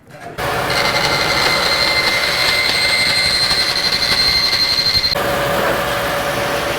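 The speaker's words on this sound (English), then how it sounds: "I'm going to cut it just here on the bandsaw. It's ABS" Bandsaw cutting through ABS pipe, a loud, steady high-pitched whine with broadband rasp that starts abruptly and holds for about five seconds before the blade note drops away.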